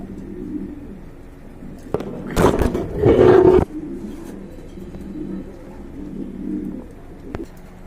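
Pigeons coo softly and repeatedly nearby, low throaty murmurs, with a brief loud rushing burst in the middle.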